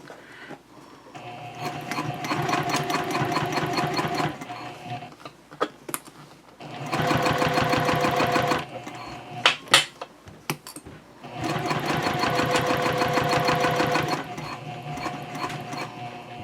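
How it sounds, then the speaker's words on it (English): A sewing machine stitches a messenger handbag in three long bursts of fast, even mechanical whirring and clatter, broken by short pauses with a few clicks and knocks as the fabric is pivoted. "Pivot again, and then we're going to sew down this side."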